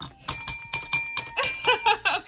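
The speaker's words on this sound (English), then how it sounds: "You want to ring the bell? Ring the bell." A small hand bell, like a bicycle bell, is rung after a game is won, with about ten quick bright dings in a rapid, uneven run, close and loud, with no talking.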